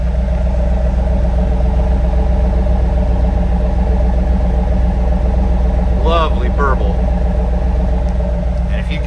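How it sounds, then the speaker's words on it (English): A 1997 Chevrolet Camaro SS 30th Anniversary Edition idles with a steady, loud low exhaust rumble from its tailpipes, unbroken throughout, with a brief chirping sound partway through. "Let's go give a listen to the sound coming out of those tailpipes"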